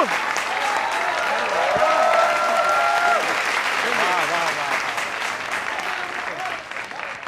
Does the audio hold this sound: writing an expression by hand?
no